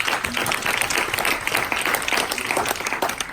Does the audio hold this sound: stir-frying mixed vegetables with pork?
no